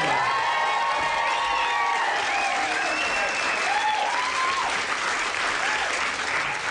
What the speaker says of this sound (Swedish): Ge en varm applåd till Björn Gustafsson!